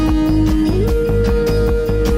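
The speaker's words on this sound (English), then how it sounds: "I wanted an actual 808 driving the kick." 808 bass tone in a music production beat, layered under a natural drum kick with synth sounds: a loud sustained low bass note that slides up in pitch, pulsing with steady kick hits and bright percussive transients, no talking.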